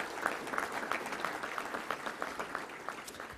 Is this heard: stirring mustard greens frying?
no